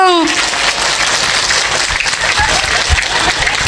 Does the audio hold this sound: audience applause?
yes